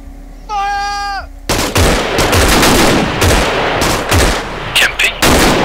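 Loud, close bursts of rapid rifle gunfire during a military fire drill, a dense string of sharp cracks after a shouted voice, with echoing shots continuing to the end.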